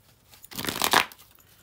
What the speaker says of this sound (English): I'm going to pull some cards from here